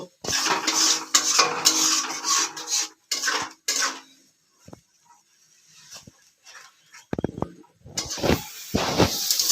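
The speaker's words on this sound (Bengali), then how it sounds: "এবার পেঁয়াজটা দিয়ে 2 মিনিট নেড়ে নেব।" A utensil stirring onion in a pan, heard as bursts of clattering and scraping against metal separated by quiet pauses, close and moderately loud with no speech.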